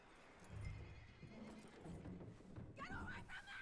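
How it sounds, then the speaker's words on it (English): A horse in the Red Dead Redemption 2 video game snorts and shuffles its hooves, then gives a loud, wavering whinny near the end, fairly close. "That looks like a decent horse."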